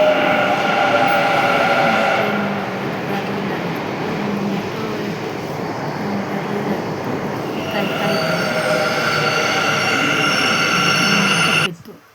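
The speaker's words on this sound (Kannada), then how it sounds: "ನಾನು ಇದು ಮೆಟ್ರೋಗೆ ಹೋಗ್ತಾ ಇದ್ದೀನಿ," A metro train running, a steady loud rumble with whining tones that continues throughout at close range, with faint voices inside the carriage.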